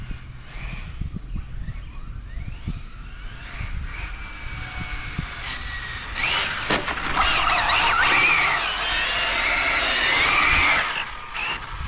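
Arrma Infraction 6s electric RC car running flat out outdoors during a bash session, a steady whining drone with rising high-pitched motor whine that swells louder in the second half, no talk.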